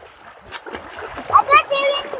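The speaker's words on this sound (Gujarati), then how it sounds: "અરે મારો દીકરો સ્વિમિંગ કરે." A child swimming in water at a cowshed, with a few quick splashes and a slapping burst at close range, and people talking nearby.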